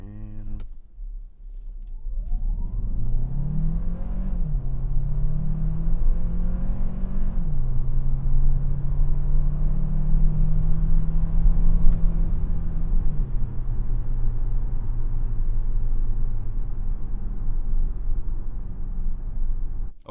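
A 2026 Hyundai Santa Fe Hybrid Calligraphy AWD pulls away from a complete stop with traction control on, its engine rising in a steady drone that climbs through shifts before settling into a sustained, moderately loud cruising hum.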